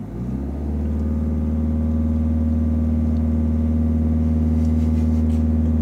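A car engine runs during a driving lesson, a loud, even hum that swells briefly at the start and then holds steady, alone without talk.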